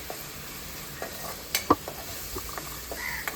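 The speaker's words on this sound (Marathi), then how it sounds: "चांगलं परतवून घेऊया तेलामध्ये" Kharda chicken masala sautéed in hot oil, a soft steady sizzle broken by a few sharp spatula scrapes and taps against the pan, close but fairly quiet.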